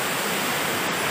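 Water of a river flowing steadily through a landscaped park along Gajah Wong in Jogja, a continuous broadband rushing wash, fairly close and even throughout, with no voices.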